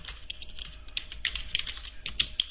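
Fingers type a SQL query on a computer keyboard, giving a quick, close, uneven patter of keystrokes with a few sharper key hits, and no one speaks.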